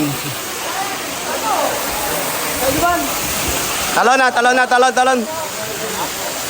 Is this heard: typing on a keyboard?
no